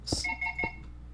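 A short phone notification chime cuts into a game session: two quick high tones followed by a sustained ringing pattern, fairly close and clear, with no talk over it.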